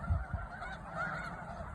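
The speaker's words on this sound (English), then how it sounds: "Check out these, I guess, ducks? Geese?" Large flock of hundreds of geese or ducks at Bosque del Apache wildlife refuge, a distant, faint chorus of overlapping honks and calls.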